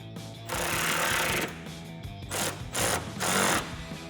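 Power tool tightening screws into a fiberglass Cervini's Stalker hood on a 2018-2020 Mustang, three buzzing bursts of about a second each with short pauses between, close and steady.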